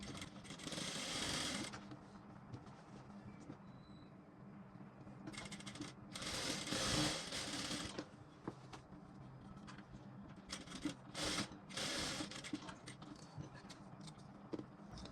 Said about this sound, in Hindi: इस प्रकार से इसको जोड़ना है ऐसे। डबल सिलाई लगा लीजिए।